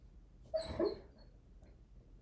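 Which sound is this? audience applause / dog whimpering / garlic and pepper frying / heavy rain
dog whimpering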